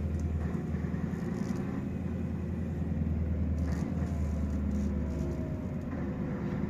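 A heavy truck's engine labors up a snowy hill in first gear, a steady low rumble held close and continuous with no talk over it.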